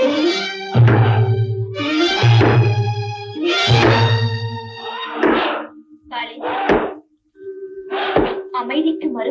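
In a temple scene from a Tamil devotional film, a heavy teak log rams the temple door in three deep, booming thuds, then people shout and speak over further knocks.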